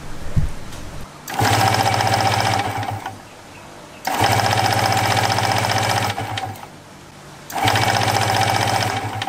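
Electric starter cranking a Yamaha DT125 two-stroke motorcycle engine, three long steady whirring cranking runs of about two to three seconds each, loud and close with short gaps between.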